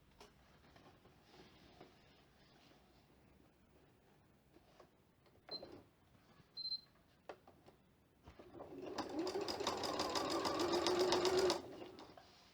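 Domestic sewing machine stitching fabric while sewing a machine cover, a loud steady run of rapid needle strokes lasting about three seconds after a few quiet taps and clicks.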